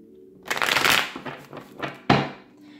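Tarot cards shuffled by hand at close range: a riffling rush of card edges, a few softer shuffles, then a sharp snap as the deck is squared.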